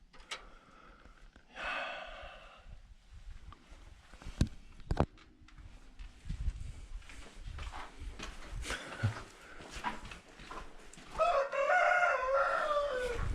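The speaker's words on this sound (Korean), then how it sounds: "닭이 있네" Chickens clucking with a rooster crowing near a cave in a mountain-ringed valley, with scattered bird calls, rustling and thumps, and a loud, close crow near the end.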